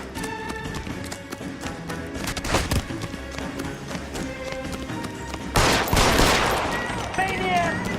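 Rapid gunfire in the 1940s Los Angeles crime game L.A. Noire, a loud cluster of sharp shots over a tense music bed, with a heavier burst near the end.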